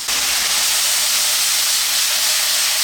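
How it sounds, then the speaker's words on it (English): Sauce with tofu and beefless vegan crumbles caramelizes in a hot pan, giving a loud, steady, close-up sizzle and hiss that runs unbroken from start to finish with no talking. "So I'm just gonna add maybe like 2 tablespoons and let this caramelize up."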